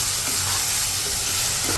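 Masala stirred in a hot kadai with oil, giving a steady, loud, close sizzle and hiss that carries on unbroken throughout.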